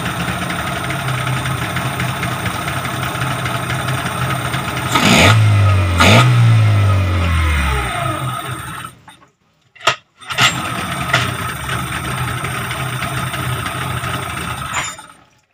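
A Yamaha 15 hp outboard motor, previously hard to start when cold, runs steadily after starting, its close, loud engine drone rising in pitch briefly around the middle before cutting out and then resuming.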